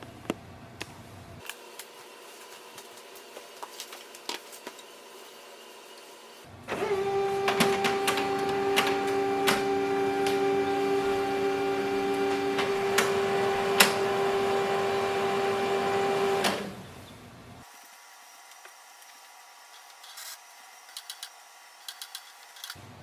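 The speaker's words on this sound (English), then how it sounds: "The printer will restart." An HP Color LaserJet Pro printer restarting after a factory reset whirs and clicks, then a louder stretch of mechanical humming with a steady tone for about ten seconds before settling back to quieter ticks.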